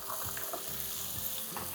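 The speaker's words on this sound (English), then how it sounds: "So in go our onions." Finely diced onion, red or white, sizzles steadily as it fries in hot oil, a continuous close crackle with faint stirring scrapes and no talking.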